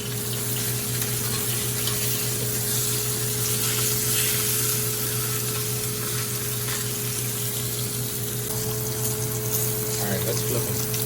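Wagyu ribeye steaks sizzle steadily on a grill pan, a loud, continuous frying hiss close by with a low hum running under it.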